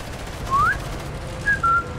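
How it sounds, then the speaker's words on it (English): Someone whistles during a Sniper Elite game session, a few short rising and level notes over a low background hum. "stop whistling"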